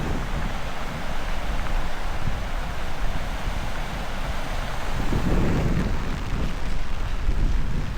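Strong wind gusts buffeting a hot tent during a heavy rainstorm, a loud continuous roar with rumbling surges and microphone buffeting, no talk.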